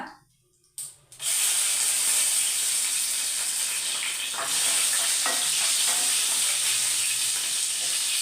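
Dried red chilies frying in hot oil in a pan for a Kerala brinjal stir-fry, a loud steady sizzle and hiss that erupts after a short quiet moment and continues without talk.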